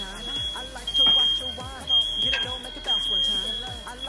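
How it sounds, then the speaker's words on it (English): A high, steady smoke alarm tone sounds continuously with brief breaks while people talk loudly over it, close by in a kitchen while gumbo cooks. "So I'm going to try and talk over the fire alarm"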